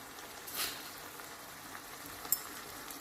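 Tomato gravy sautéing in a pan for a pasta sauce, a soft steady sizzle and bubbling throughout, with a brief louder hiss early on and a couple of small pops near the end.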